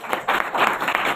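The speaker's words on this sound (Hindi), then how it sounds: "उस बादशाह के लिए जोरदार ताली।" A church congregation gives loud, enthusiastic applause in celebration of a newborn king, with several surging waves of clapping over a brief stretch.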